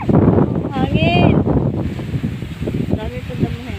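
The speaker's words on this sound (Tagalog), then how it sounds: "Grabe hangin." Strong wind buffets the microphone outdoors during guava picking, a loud rushing gusty roar mixed with children's and adults' voices.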